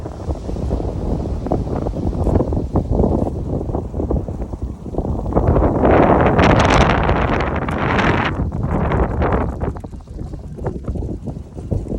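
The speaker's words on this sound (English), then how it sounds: "It's so windy out here." Strong wind roars and buffets the microphone outdoors in a park, with gusts that build to a loud peak in the middle before easing off.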